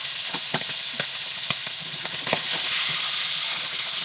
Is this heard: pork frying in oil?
yes